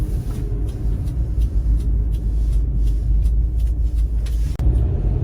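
A diesel Kia New Sportage SUV is under way on a test drive, giving a steady, close engine and road rumble throughout, with a brief dip near the end.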